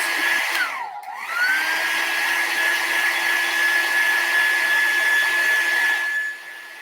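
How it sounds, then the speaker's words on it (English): Heat tool blowing a steady, loud stream of hot air over a chalk transfer on a Christmas craft project, with a brief pitch dip near the start as it is moved, then an even whooshing drone that runs without talk. "I'm trying to make sure that my heat tool does not get on the transfer."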